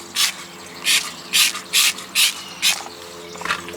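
Super Clean degreaser is sprayed from a trigger bottle onto an aluminum truck wheel and tire, six sharp hissing spritzes in a steady rhythm, close and loud, followed by a softer final squirt.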